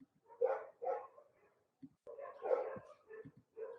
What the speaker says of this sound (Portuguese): Agora é cachorro.